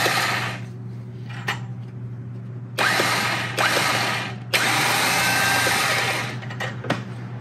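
A Badlands 12,000 winch motor on a Jeep Wrangler JKU stock bumper whirs in short start-and-stop bursts, a close, buzzing mechanical whine broken by brief gaps and clicks.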